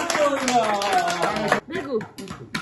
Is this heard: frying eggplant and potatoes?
no